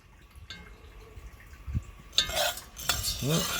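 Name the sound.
stirring coffee beans roasting on a BBQ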